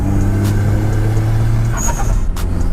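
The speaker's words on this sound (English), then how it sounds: "This being such a small engine, this being a 3-cylinder, there's almost no lag." Turbocharged three-cylinder engine of a Suzuki Alto K10 accelerating, a loud steady drone heard from inside the car that shifts pitch partway through.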